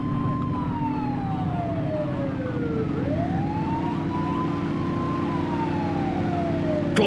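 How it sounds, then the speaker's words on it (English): Police car siren in the video game The Precinct, a continuous wailing tone sweeping down and back up, loud and close over a steady engine and traffic rumble, with no talking. "They won't know if you want to pull them over if you don't turn your siren on."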